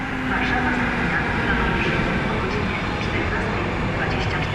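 An Intercity Silesia passenger train hauled by a Vectron locomotive, running from Prague to Warszawa Wschodnia, arrives with a loud, steady rumble and rolling wheel noise, continuous and close throughout.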